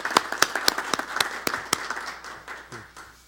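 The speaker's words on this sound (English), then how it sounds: "Should we give them a round of applause?" Audience applause at a consumer-focused meeting: a handful of loud, distinct claps in a brisk rhythm that thins out and fades over a few seconds, with a voice briefly audible near the end.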